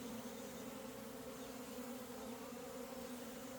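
Honey bees moving into a new hive give a steady, dense buzz that holds even and close throughout, with no voices.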